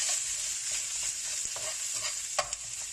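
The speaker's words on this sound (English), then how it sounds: "Pan's here, adding a little oil into that. Oil's ready. First thing goes in, onions. Just going to slightly cook the onions." Onions fry in hot oil in a pan for Sri Lankan kottu roti, giving a steady bright sizzle with a few soft stirring clicks and one sharper clack near the end.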